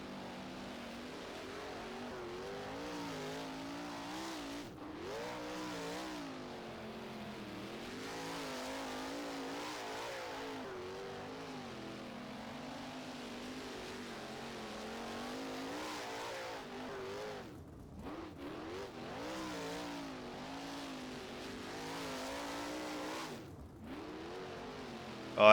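Wingless sprint car engine in rFactor racing at Gas City, a loud continuous harmonic roar that rises and falls with throttle, hammering against the rev limiter with brief dips and cuts near the end.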